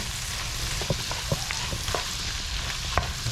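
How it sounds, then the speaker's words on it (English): Seasoning powder stirred into vegetables in a hot pan on high heat: a steady sizzle and fry hiss, broken by light scraping clicks of the spoon against the pan. "Gonna stir it in. Gonna mix it all around."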